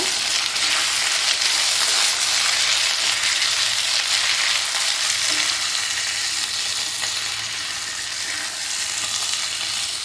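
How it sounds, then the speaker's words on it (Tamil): Thinly sliced potatoes fry in hot oil with a steady, dense sizzle that stays loud and even throughout, with no voices. "நல்லா வந்து எண்ணெயில் ரோஸ்ட் ஆகணும் உருளைக்கிழங்கு"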